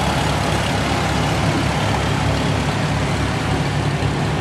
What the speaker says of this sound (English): And there goes Max's 826